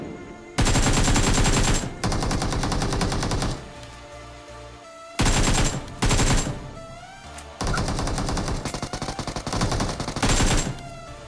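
Loud bursts of AKM automatic rifle fire in the video game BGMI, several long rapid volleys separated by brief pauses and quieter background game sounds.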